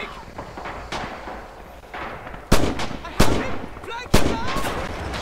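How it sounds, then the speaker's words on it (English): Gunfire and a grenade blast in the Red Orchestra 2 battlefield game on the Spartanovka map: several sharp, loud cracks and a heavy explosion stand out over a constant rumbling backdrop of distant combat. "thanks to whoever threw that grenade over there. You blew up my cover"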